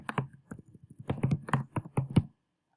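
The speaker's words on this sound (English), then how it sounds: "So check the footer mark and then type your name." Keys tapped on a computer keyboard while entering a name into a slide footer, a quick run of close, distinct clicks with brief pauses that stops abruptly.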